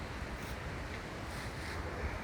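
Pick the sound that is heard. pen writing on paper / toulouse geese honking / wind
wind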